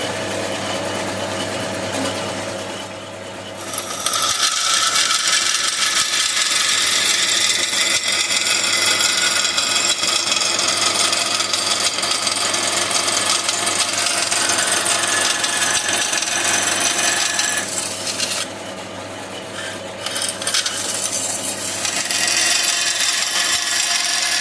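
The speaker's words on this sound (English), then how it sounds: "So to the bandsaw." A bandsaw in a model engineering workshop trims an edge straight, a steady loud whirring cut running almost continuously after a brief quieter start, with a short dip near the end before resuming.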